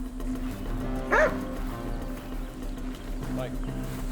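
A police tracking dog on a manhunt barks, one sharp bark followed later by a softer second one, heard over a steady low hum and voices.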